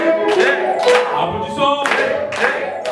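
A church congregation claps together at a thanksgiving celebration, loud and close, in a few uneven bursts of hand claps with a brief lull in the middle.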